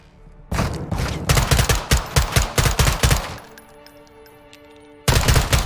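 Rapid bursts of automatic gunfire in a shooter video game, loud and close, a dense volley of rhythmic shots that stops, then resumes abruptly after a short lull.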